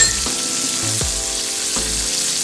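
Garlic sizzles loudly in a hot pan alongside pan-seared rib eye steaks, a steady bright frying hiss with a few soft clinks and stirring knocks through it.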